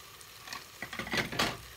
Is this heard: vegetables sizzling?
yes